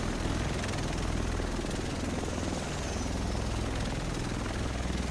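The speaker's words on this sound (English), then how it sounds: "Here it comes. The rest of us should be in this chopper." A helicopter arrives in The Division, its dense, continuous rotor thrum and roar loud and close, filling the whole stretch without letup.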